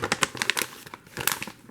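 Translucent blue vinyl wrapping around a Smith & Wesson SW22 Victory .22LR pistol crinkles in quick close bursts of crackling, with a short pause before another rustling flurry.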